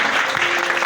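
Congregation applauding during a church worship service, a dense, steady wash of clapping from many hands that fills the whole moment without pause.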